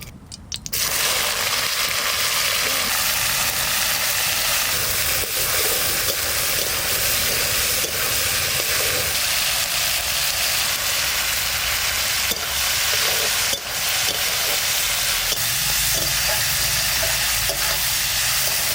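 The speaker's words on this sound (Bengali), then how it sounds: "উচ্ছেটা ভাজা করব, এবার তেল দিচ্ছি।" Oil sizzles hard in a pan as bitter gourd fries in a home kitchen, a loud and steady crackling hiss that starts abruptly and carries on with small pops and stirring scrapes.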